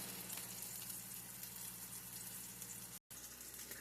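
Steady, crackling sizzle of sausage frying in a pan, continuous and close, with a momentary dropout near the end.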